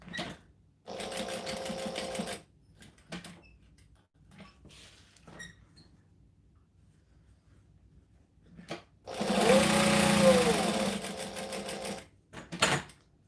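A sewing machine stitches a vinyl bag at a 2.5 stitch length in short bursts, with a long steady run near the end, separated by quiet pauses and a few clicks.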